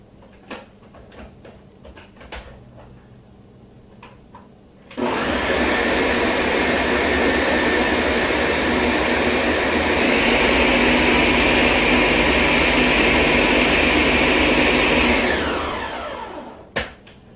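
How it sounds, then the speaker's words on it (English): A blender whirs loudly and steadily for about ten seconds, blending a cranberry and oat smoothie, starting abruptly after a few faint clicks and shifting pitch slightly midway before stopping. "I'm going to blend this."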